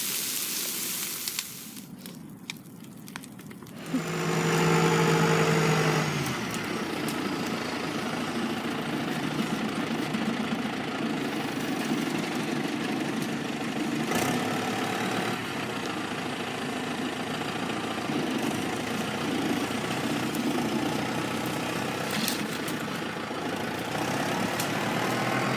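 A tractor engine idles with a steady low rumble beside a burning field, which adds crackling and hissing. A louder tonal surge comes early on, then the drone settles and runs on evenly for over twenty seconds.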